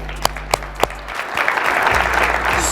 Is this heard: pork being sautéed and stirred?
no